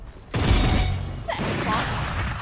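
A bomb grenade thrown in the video game Valorant: a loud, sudden low-heavy blast with a swishing throw, followed by a second burst of noise and sustained rumble.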